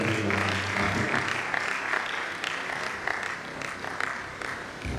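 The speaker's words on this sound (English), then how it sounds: "Please let's put our hands together." Applause from a lecture audience fills the hall at moderate loudness, steady clapping over the full stretch with a low hum underneath and no talk.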